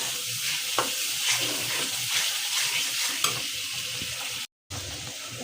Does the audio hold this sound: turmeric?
yes